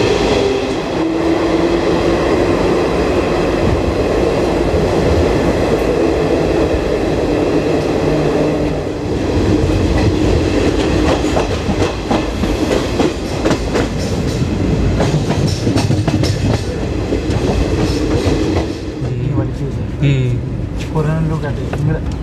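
Garib Rath Express passenger train running on the rails after the Kasara ghat, a loud steady rumble with clattering wheel noise throughout and a rhythmic clack near the end, with people talking over it.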